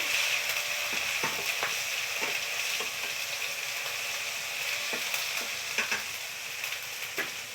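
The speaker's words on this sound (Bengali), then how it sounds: "এটা একটু ভেজে নিচ্ছি" Turmeric powder frying in a pan while cooking a pabda fish recipe, a steady bright sizzle with occasional scraping taps of a spatula stirring, heard alone without speech.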